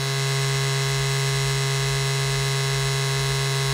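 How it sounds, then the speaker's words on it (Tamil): Faulty laptop cooling fan held close to a microphone, giving a steady, unbroken buzzing whine with a constant hum underneath and no talking. "இந்த மைக்கை 2 ஃபேன் கிட்டையும் நான் வைக்கிறேன், எப்படி சவுண்ட் வருது அப்படிங்கிறத பாருங்கள்"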